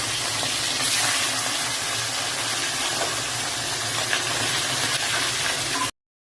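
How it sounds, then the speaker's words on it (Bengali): Tilapia fish frying in oil in a pan over a gas flame turned down low gives a steady, dense sizzle that runs evenly for about six seconds and then cuts off abruptly. "মাছটাকে ভেজে নিই।"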